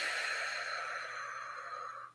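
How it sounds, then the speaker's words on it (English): A long, deep exhale pushed out through the mouth during a guided breathing exercise, a steady breathy rush lasting about two seconds that tapers off at the end, close and alone. "Deep breath in, breathing in through your nose, exhaling out through your mouth."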